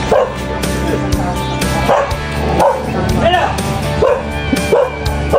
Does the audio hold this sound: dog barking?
yes